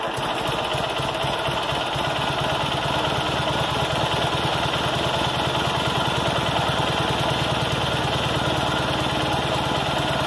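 A cold Kohler M18 engine on a Cub Cadet 1882 garden tractor idles at very low RPM, a steady, loud, even chugging throughout with a slight knock, close by and with no talk.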